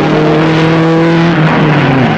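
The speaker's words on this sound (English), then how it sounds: "There's a Le Mans type start, and Stirling Moss, who's got it down to a fine art, was first away in an Aston Martin" Aston Martin race cars, including a DR1, roar away from a Le Mans type start at the 1958 Goodwood Tourist Trophy, one loud sustained engine note that climbs and drops in pitch as it passes close by.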